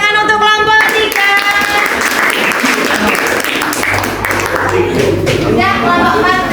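A room full of people at a teacher training session applauding a group, dense steady clapping that holds throughout at close range, with a few voices mixed in.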